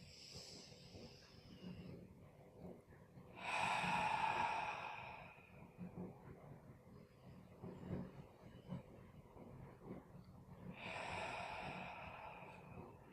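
Slow yoga breathing in and out through the nose, with two soft, airy breaths a few seconds apart and a faint hushed background between them.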